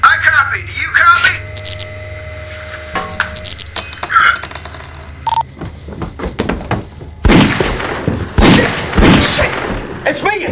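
Gunfire in a zombie-themed feature film: a scattered series of sharp, loud shots and impacts, some close and some spaced out, ending in a denser cluster of bangs.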